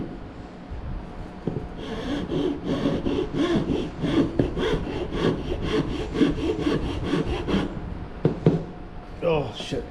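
Rhythmic rasping strokes of a file or sandpaper worked back and forth across a hand-carved wooden wand, steady and close, with breathy noises mixed in and brief handling sounds near the end.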